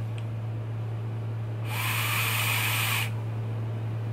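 A Reload Vapor Reload X RDA vape draws air with a steady, loud hissing whistle for about one and a half seconds, with a constant low hum underneath.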